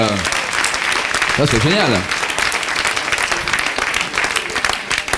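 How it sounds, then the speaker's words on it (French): A conference audience breaks into loud, continuous applause for a speaker, with voices talking and exclaiming over the clapping throughout. "déjà on peut l'applaudir pour ça"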